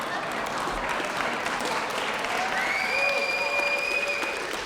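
Sustained applause from an audience at a Republican club candidate forum in Plano, a steady dense patter of clapping filling the room, with faint whistle-like tones rising above it toward the end.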